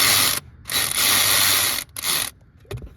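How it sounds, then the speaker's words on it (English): A ratchet wrench clicks rapidly while tightening bolts on a 5.4L Ford E350 Super Duty alternator, several bursts of loud close ratcheting separated by short pauses, ending with a few slower clicks. "And now I'm just tightening these up."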